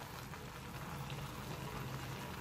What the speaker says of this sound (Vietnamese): Còn cái nồi này thì đang sôi, ninh cà này phải ninh hơi lâu đấy.